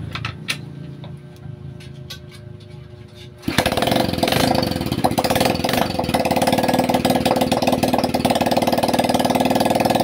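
A Rusi Gala motorcycle engine fires up after a few seconds of quieter background, then runs loudly and steadily with a rapid mechanical chatter, close by, until the end.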